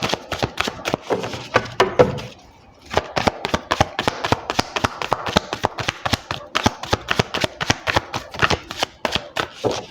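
Tarot cards are shuffled close by in a steady series of crisp riffling bursts and flutters, pausing briefly near the two-second mark before the rapid shuffling resumes.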